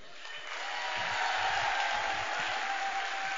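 A crowd at a live charity comedy show in Rionero applauds in a steady, fairly soft wash of clapping that swells slightly and holds for a few seconds.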